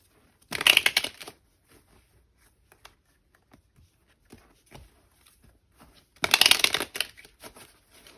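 Two brisk bursts of tarot cards being shuffled, riffled and snapped together, separated by quieter handling and soft taps.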